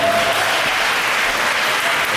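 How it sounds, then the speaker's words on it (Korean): Wedding guests burst into applause during the ceremony vows, a loud, dense, continuous clapping that fills the whole short moment without letting up. "우리 박수 한번 하겠습니다."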